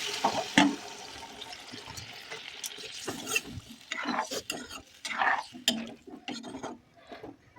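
Water goes into a pan of sautéed eggplant and baby corn, and a burst of sizzling and splashing follows, along with uneven bouts of stirring and scraping up close.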